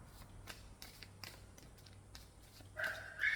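A dog barks several times, faint and somewhat distant, in short irregular bursts against a quiet indoor background.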